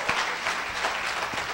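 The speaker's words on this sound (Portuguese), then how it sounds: "Você pode aplaudir o Senhor" A church congregation claps during a worship service, a brief steady patter of many hands.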